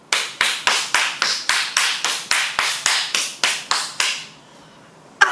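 A group claps together in unison: about fourteen sharp, evenly spaced claps in a quick steady rhythm, then a pause of near silence before one last loud clap.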